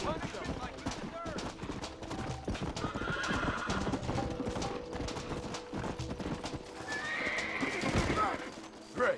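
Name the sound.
horses neighing and galloping in Red Dead Redemption video game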